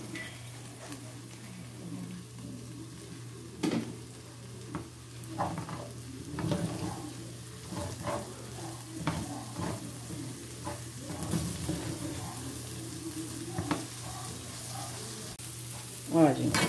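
Collard greens fry in a pan with rice and a chicken stock cube, giving a soft, steady sizzle broken by repeated stirring scrapes and knocks, all fairly quiet over a low hum.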